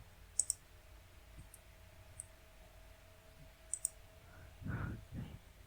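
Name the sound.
mouse clicks while editing in WordPress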